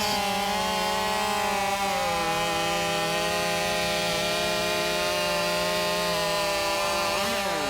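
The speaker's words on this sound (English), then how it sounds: "Whew, 2 very fast saws." Two chainsaws roar together, cutting through wood in a timber sports race at a rancher-edition horizontal hustle event, with a loud, steady buzz throughout and pitch shifting as the chains bite into the log.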